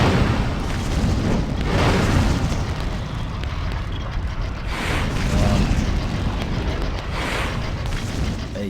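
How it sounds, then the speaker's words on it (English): An incendiary spell from the Harry Potter and the Chamber of Secrets video game on GameCube burns away webs, giving a dense, continuous roaring whoosh of fire, loud and sustained with slight swells throughout. "Got incendiary magic. Burns certain items."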